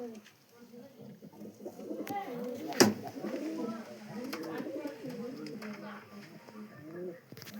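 A pigeon at a home loft at night, after feeding, gives low, rolling coos close by, heard alongside quiet background murmur and a sharp click partway through.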